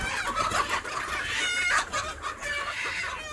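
Chickens squawk and cluck in agitated bursts as they are being caught in a household coop, the flapping commotion loud and close throughout with no talking over it.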